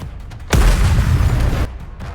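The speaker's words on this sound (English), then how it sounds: "The missiles have no homing ability. It's just firing wildly!" A deep booming blast from missiles firing and exploding in the video game Nikke: Goddess of Victory, a single loud rumbling impact lasting about a second over quieter background noise.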